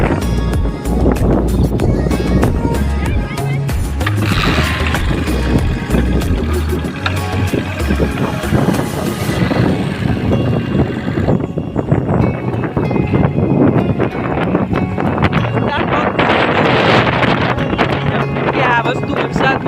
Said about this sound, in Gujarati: વરસાદ બહુ ચાલુ થઈ ગયો છે એટલે હું નીકળી જાઉં હવે